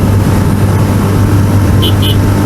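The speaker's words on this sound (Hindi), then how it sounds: "अभी मैं बाइक थोड़ी स्लो राइड कर रहा हूँ" A motorcycle rides slowly along the NH48 highway in strong monsoon wind, a steady low engine drone buried under loud, continuous wind roar, with a voice talking briefly over it.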